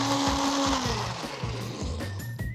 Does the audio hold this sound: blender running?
yes